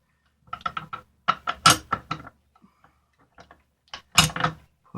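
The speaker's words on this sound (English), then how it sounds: "you want to take your firing pin and bolt" SKS rifle firing pin and bolt handled during a field strip: crisp metallic clicks and rattling in short clusters, close up, separated by near silence.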